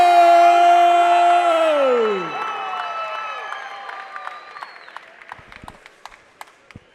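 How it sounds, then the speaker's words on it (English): A home crowd cheers and claps for MMA fighter Ross Johnson at his debut bout, first as a held roar and whoop that drops away, then as scattered claps and shouts. "You can hear the home crowd cheering for Ross Johnson here."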